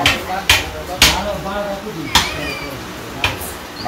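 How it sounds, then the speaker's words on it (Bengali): Thankuni leaves and chili ground on a stone slab, with several sharp knocks and thuds spaced irregularly, close and loud, between softer rubbing scrapes. "বাটা শুরু করে দিচ্ছি।"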